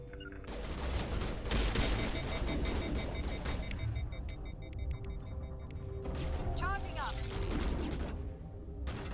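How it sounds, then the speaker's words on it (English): Sustained gunfire in Mass Effect as enemies shoot at the squad: rapid overlapping shots and bursts in a steady fusillade, with a voice speaking over the battle noise. "Someone is shooting at us from in the floor."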